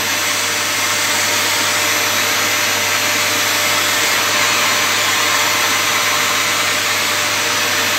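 Vacuum cleaner running close by with a loud, constant motor whine and airflow hiss that holds steady throughout, with no voices over it.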